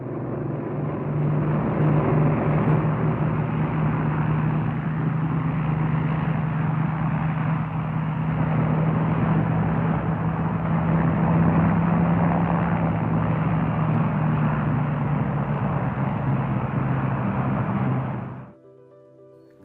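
WWII-era RAF propeller aircraft engines roaring steadily as the throttles advance for takeoff, a loud close drone with a strong low hum that holds for about eighteen seconds before cutting off abruptly.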